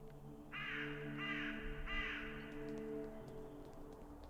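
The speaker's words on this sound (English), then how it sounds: "It's inhabited by dozens, if not hundreds of crows?" Three loud, harsh crow caws in an even rhythm ring out from a treetop in the video game Saint Kotar, over a steady low ambient hum.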